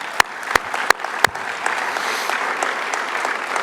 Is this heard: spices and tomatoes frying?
no